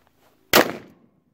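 A single sharp, loud gunshot from a Howdah Hunter pistol firing an AA battery slug, a sudden close blast with a short decaying tail, heard alone against near silence.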